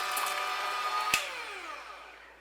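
A mixer runs with a quiet, steady whirring hum that winds down slowly, with one soft knock near the middle.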